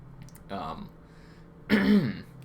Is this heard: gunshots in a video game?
no